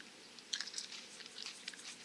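Close, crisp crunching bites and chewing of a small whole Golden Congo Brown chili pepper, a few quiet crackly snaps over a couple of seconds.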